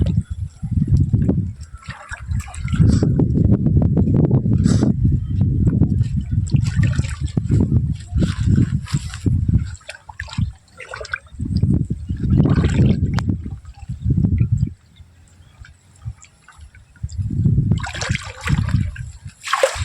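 Someone wading through shallow village water while catching snails, with repeated sloshing, splashing and trickling in bursts separated by quieter pauses, close to the microphone.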